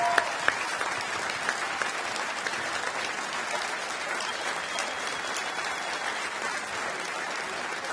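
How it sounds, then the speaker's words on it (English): Audience at the WDF Lakeside World Darts Championship finals gives a long, steady round of applause with a few sharper claps up front, a dense crowd wash that stays level, no speech over it. "a huge, huge round of applause for Florian Price."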